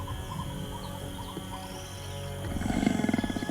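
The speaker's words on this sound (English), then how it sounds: "The elusive puma." A puma, or mountain lion, in the gallery forests of Colombia gives low, rasping roars that swell louder toward the end. Faint bird calls sound in the background, and nobody speaks.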